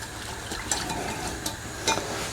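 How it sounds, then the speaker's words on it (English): A whisk stirs beer curry sauce in a pan, giving steady close scraping and swishing with a few sharper clinks against the metal, no voices. "Now we need a whisk, any sort. Whisk this together."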